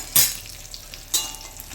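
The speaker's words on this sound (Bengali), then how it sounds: "আমার মুড়োটা ভাজা হয়ে গেছে, লাল লাল করে কত সুন্দর ভাজা হয়ে গেছে" A katla fish head frying in oil, with a low sizzle and two brief sharp splatter or stir bursts, close and quiet with no talk.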